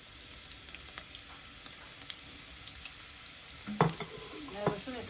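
Chopped garlic dropped into hot oil in a pan while cooking a Bengali kakrol and rohu fish curry, giving a soft steady sizzle with stirring clatter and a louder burst of frying near the end.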